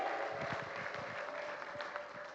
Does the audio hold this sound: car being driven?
no